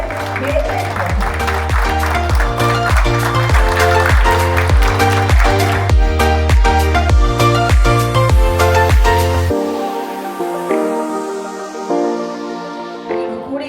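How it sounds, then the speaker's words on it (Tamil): Loud, sustained applause from a crowded Rotary Club of Guindy event hall welcomes the chief guest, dense clapping with rhythmic piano music playing throughout, the clapping thinning toward the end. "உங்களை பலத்த கரகோஷத்துடன்"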